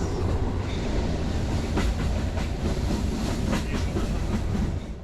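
A luxury train rumbles steadily along the rails with a rhythmic clickety-clack of wheels, loud and close, lasting throughout.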